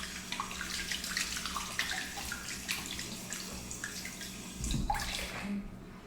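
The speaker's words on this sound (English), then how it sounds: "I gotta wash my hands" Tap water running over hands being washed at a kitchen sink after handling raw chicken, a continuous splashing rush with shifting spatter as the hands move, close and fairly quiet.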